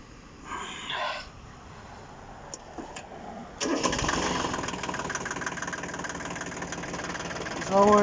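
A mini tractor with a hand throttle and about 644 engine hours cranks briefly, fires up and settles into a steady, slightly knocking idle close by, rising at the end, with a voice speaking over it.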